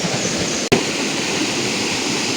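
A clear mountain river runs over stones in the hills, a steady broadband rushing wash that stays loud and even throughout, with one brief thump near the start.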